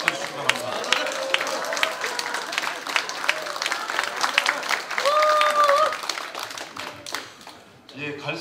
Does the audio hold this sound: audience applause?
yes